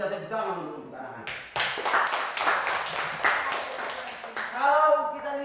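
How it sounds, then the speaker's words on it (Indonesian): A burst of group clapping in an Indonesian classroom applauding the children during a teaching practice lesson, lasting about three seconds, with an adult voice talking just before and right after. "Kita tepuk tangan untuk anak-anak."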